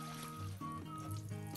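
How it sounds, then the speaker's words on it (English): Dirty water pours and trickles out of a ceramic cat water fountain, a quiet, steady splash with a faint underlying hum and no talking. "Remove the dirty water."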